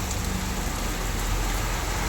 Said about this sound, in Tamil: ரம்மியமான இயற்கை சூழ்நிலையோடு அற்புதமான மழை இன்பமளிக்கும் மழை இனிதே பொடியும் மழை